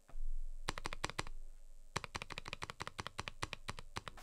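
Crisp, clacky keystrokes typed on a mechanical keyboard, close up: a short burst, a pause, then a faster run of evenly spaced clicks.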